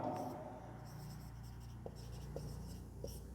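Pen or chalk writing out geometry working, faint scratchy strokes with a few distinct taps over a steady low background hum, no voice.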